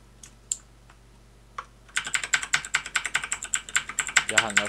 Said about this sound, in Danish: Man kan bare høre folks tastatur klik, klik, klik, klik.